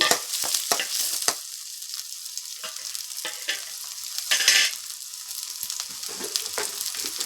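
Sliced onions and cut green chillies sizzle and fry in a hot pan, with steady crackling broken by scraping and stirring noises and a louder hiss midway.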